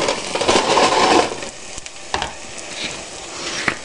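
Vegetables sizzle and fry in a pan, a steady close hiss punctuated by scraping stirs and small crackles, loudest at the start before settling into a quieter sizzle.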